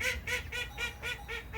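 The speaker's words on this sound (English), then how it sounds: "And then we have our ducks." Ducks at a petting zoo call in a steady series of about six nasal honking quacks, close and fairly loud, evenly spaced with no talking.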